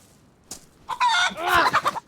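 Rooster clucking and squawking in the survival video game DayZ, a burst of several close, loud calls after a brief quiet start, heard alone without talk.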